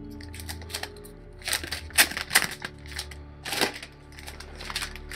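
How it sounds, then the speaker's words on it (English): Crinkling and crackling as a plastic protective covering is peeled from a Lenovo Yoga Tablet 2, a 13-inch Windows tablet, in sharp bursts and rustles over a steady low hum, close and moderately loud. "Remove some plastic covering here, some protective coating."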